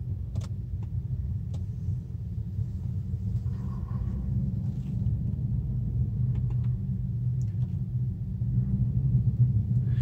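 A low, steady exhaust drone from an Infiniti sport muffler rumbles close by as the car pulls away slowly, with faint clicks and light knocks above it.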